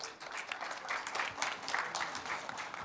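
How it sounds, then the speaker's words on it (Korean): A crowd applauds steadily at an academic conference, a dense wash of clapping that holds at an even level for a few seconds. "큰 박수로 환영해 주시기 바랍니다"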